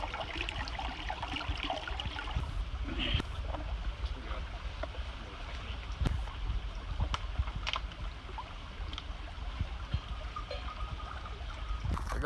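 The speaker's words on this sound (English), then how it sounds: "This is that second creek. It's a lot more like rapidy and a bit deeper too." A rapid, fairly deep creek in the Grayson Highlands rushes steadily for the whole stretch, a constant broadband wash of moving water with occasional splashes and knocks, no voices on top.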